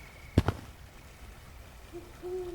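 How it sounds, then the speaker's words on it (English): An owl hoots outdoors at night, its two faint, tonal calls coming near the end after a pair of sharp knocks, with quiet ambience around them. "I hear some water and an owl."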